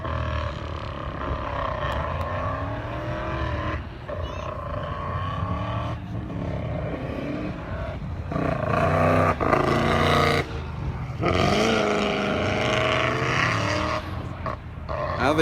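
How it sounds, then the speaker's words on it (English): A race car on a dry skid pad revs repeatedly during a smoke show, its engine surging and dropping in several bursts with brief dips between, loud and continuous across the clip. "I think Chris just wants to make noise and smoke"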